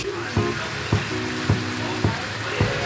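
Mutton cooking in a pan with salt added: a steady close sizzle with regular scraping stirs roughly every half second.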